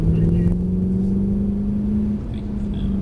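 A Mercedes car pulling forward under added throttle, a steady low engine drone with a slight dip and recovery near the end, heard from inside the cabin.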